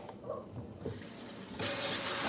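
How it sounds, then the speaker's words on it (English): Produce being rinsed under a running kitchen faucet, with water splashing softly at first and then gushing louder and steadier toward the end, with no talking. "I'm gonna wash these out real quick"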